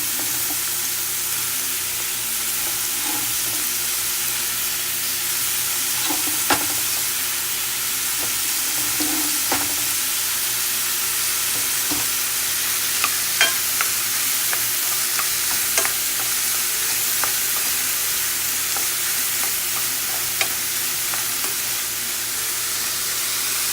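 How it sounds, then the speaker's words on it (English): Mushrooms and peppers sauté in a pan with a steady close sizzle and hiss, occasional crackles and stirring scrapes popping up over the constant frying sound. "saute my mushrooms, my peppers."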